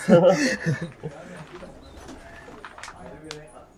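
A low, throaty pigeon coo rolls out at the start, followed by softer fainter cooing and rustling.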